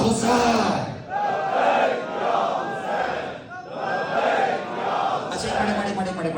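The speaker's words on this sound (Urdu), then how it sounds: "بولو میری آواز سے آواز ملا کے بولنا، بولو لبیک یا حسین" A large crowd at a religious gathering chants Labbaik ya Hussain in loud, rhythmic unison, repeated waves of massed voices rising and falling close by.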